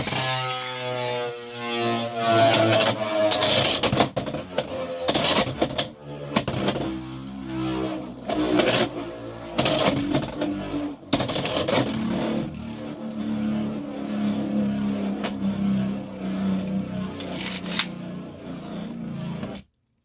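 A Meteor Dragoon spinning top launched with a winder makes a high-pitched whirring spin that rises and settles into a steady whine, with bursts of rattling and scraping, loud and close throughout, ending abruptly.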